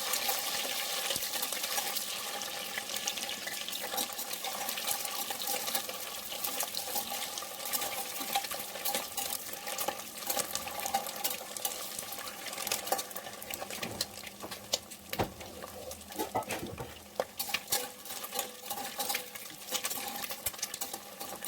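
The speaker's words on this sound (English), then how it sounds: "fry boiled eggs until they are golden brown in color" Boiled eggs fry in hot oil in a pan, a steady close sizzle with bubbling crackle running throughout, no talk over it.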